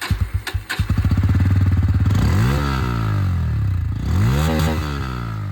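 Bajaj Pulsar N160 motorcycle with an underbelly exhaust, heard close up as it starts with a few sharp cranking pulses, settles into a throbbing idle, then revs up and falls back twice.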